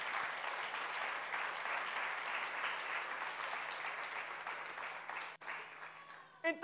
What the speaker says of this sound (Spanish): Dele fuerte ese aplauso, vamos.